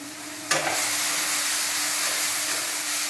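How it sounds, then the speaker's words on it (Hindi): Ground spices (salt, coriander, cumin and chilli powder) hitting hot oil in a pan for raw jackfruit curry: a sudden sizzle at the start settles into a steady, close frying hiss with no talk. "इसको अच्छा से भूनेंगे और भूनने के बाद ये गर्म हो जाएगा, फ्राई हो जाएगा।"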